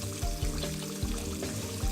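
Kitchen faucet water runs in a steady splashing stream while items are rinsed off after cooking pork chops, with intermittent low knocks and clunks, close and moderately loud.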